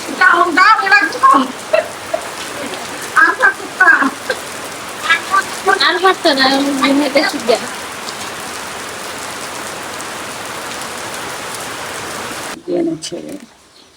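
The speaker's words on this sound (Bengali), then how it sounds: "বৃষ্টির পানি আয়া পড়তেছে আমার ফোনে" Steady rain falls close by throughout, drops pattering on surfaces and onto a phone, while people talk intermittently over the constant hiss.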